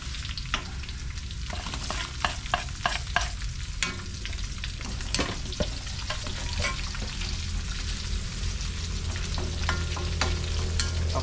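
Bagoong alamang shrimp paste from Bataan frying in a pan, with a steady loud sizzle and repeated scraping strokes of a spoon stirring it, continuing throughout without talk.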